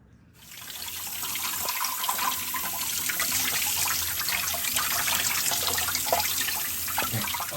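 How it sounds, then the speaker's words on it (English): Tap water runs steadily onto a turkey in a sink, a continuous splashing gush that starts abruptly and stays close and even. "then rinse it all off with water and pat it dry"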